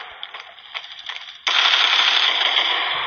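Gunfire in the mobile shooter game Standoff 2: a few scattered bursts of shots, then a loud, dense continuous automatic burst for the final half, with no voices over it.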